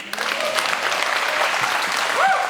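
Audience applause at a soft power talk, a dense, steady clapping from a crowd that fills the whole stretch, with a brief voice or tone near the start and end.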